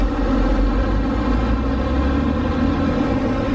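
BMW N54 engine in a 335i or 535i pulling under throttle, a steady loud droning hum heard from inside the car with no breaks.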